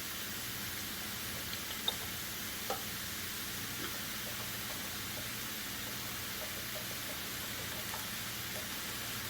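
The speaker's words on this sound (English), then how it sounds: "we're going to add about 3 tablespoons of soy sauce, or aminos, whatever you prefer" Soy sauce sizzling in a hot skillet of vegan cauliflower fried rice, giving a steady, dense hiss throughout with a couple of faint clinks, close and continuous with no talk.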